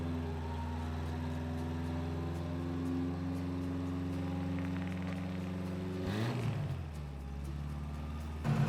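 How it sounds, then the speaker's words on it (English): Truck engine idling roughly after being restarted off road on a hill, a steady low drone with an uneven note that dips and shifts partway through before settling again, close and continuous with no talking. "Okay, so the truck just started back up."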